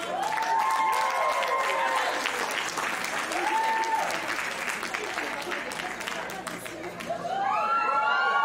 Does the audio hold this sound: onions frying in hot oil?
no